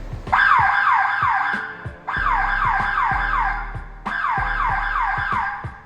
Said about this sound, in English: Your blue light works. Our siren works.